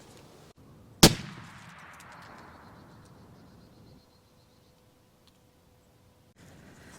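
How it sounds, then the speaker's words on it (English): A single sharp rifle shot from a straight wall cartridge fired into ballistic gel cracks once, loud and abrupt, then rings and decays over a few seconds into outdoor quiet. "Now on to the ballistic gel test."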